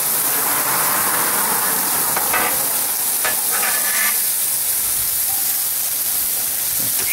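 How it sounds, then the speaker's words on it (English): Food sautéing on a Blackstone 17-inch propane griddle with bacon cooking nearby, a steady loud sizzle throughout with occasional scraping stirs of a spatula across the hot flat-top. "Start stirring these over here again a little bit."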